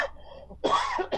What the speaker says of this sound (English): that was well-timed cough